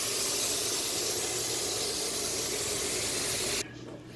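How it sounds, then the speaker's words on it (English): Mojo-marinated steak sizzles on a hot grill, a loud steady hiss that runs unbroken for several seconds before dropping off abruptly near the end. "We'll just grill it on this side for a minute and then stick it in the oven."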